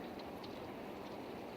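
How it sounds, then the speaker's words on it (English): Heavy rain pours in a steady, dense hiss with scattered drop patters, continuous and fairly faint, no voices. "It's raining like a monsoon."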